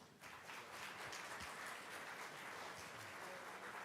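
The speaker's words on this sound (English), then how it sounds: "if you'd like to give a round of applause for my esteemed colleagues and panellists up here" Conference audience applauding at a live education event, a sustained round of clapping that starts abruptly and continues evenly at moderate distance, without speech.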